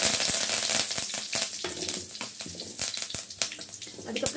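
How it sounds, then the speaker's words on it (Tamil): Cinnamon and cloves frying in hot oil on a stove for mutton chukka, giving a steady close crackling sizzle with scattered sharp pops throughout. "ஸ்டவ் ஆன் பண்ணிட்டு அதுல கொஞ்சம் ஆயில் விட்டு நம்ம எடுத்து வச்சிருக்க அந்த பட்டை, கிராம்பு எல்லாத்தையும் போட்டுக்கோங்க."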